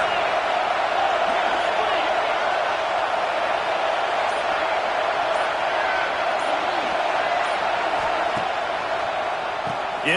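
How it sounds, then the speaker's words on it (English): A college football video game stadium crowd gives off a steady, loud roar of cheering that holds unbroken from start to finish, with no clear peaks. "Deep in their own end, and this crowd trying to help keep them there."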